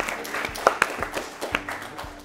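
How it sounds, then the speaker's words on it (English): Brief, light applause from a quiz show audience, a handful of scattered claps over a low murmur. "Let's clap."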